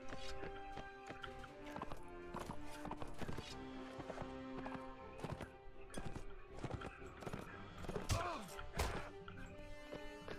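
Horse hooves beat in the video game Mount and Blade: Warband, a steady clip-clop rhythm over game ambience with sharp impacts near the end.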